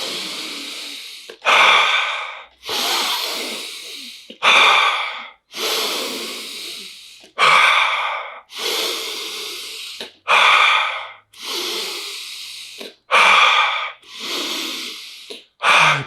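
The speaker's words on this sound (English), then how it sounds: "Bigger breaths now." Deep, forceful Wim Hof method breathing: a strong, close sharp inhale followed by a long exhale, repeated about ten times in a steady rhythm with no talking.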